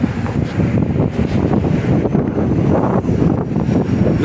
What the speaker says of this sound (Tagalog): Grabe, sarap ng hangin dito